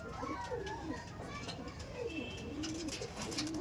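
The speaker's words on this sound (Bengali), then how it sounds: "আমাদের একদম নর্মাল লোকাল ম্যাড্রাসি পায়রা দেখুন" Local Madrasi pigeons cooing close by in a loft, soft repeated throaty coos rising and falling over faint background noise.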